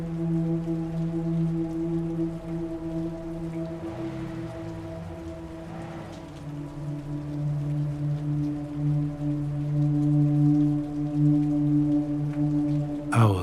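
Steady rain falls on a street as a continuous broad hiss with a constant low tonal hum beneath it. The sound is even and unbroken, with a brief sharp rise at the very end.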